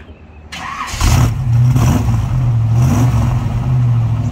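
A 1932 Ford Phaeton convertible with a mild cam cranks briefly, catches and settles into a loud, close, rumbling idle that swells with light revs.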